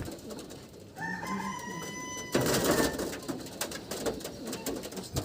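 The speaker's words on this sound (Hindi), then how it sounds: "ये कबूतर बहुत बेहतरीन और शानदार नस्ल का कबूतर है।" Racing pigeons of a fine breed, a pair including a prize-winning flier, give a few soft tonal coos, then a burst of louder rustling and flapping noise takes over and lingers nearby.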